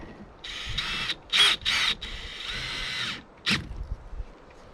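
Screws being driven in with a power drill while mounting a Lowrance Elite FS chart plotter, several short whirring bursts of varying length with brief pauses between them, close and fairly loud.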